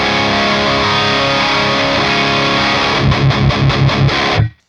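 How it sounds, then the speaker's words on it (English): A Quad Cortex modelling a Diezel VH4 on channel 4 plays high-gain distorted electric guitar, thick sustained crunch followed by a burst of tight rhythmic chugs before cutting to silence. "when we go to the next preset, you get more high gain tones"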